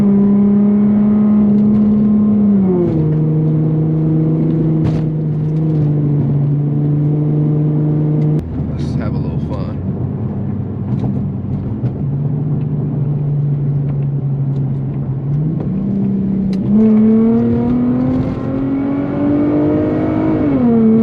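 Infiniti G35 car driving through a busy city, a loud close engine hum heard from inside, rising in pitch through gears then dropping back, with a brief lull and renewed acceleration near the end.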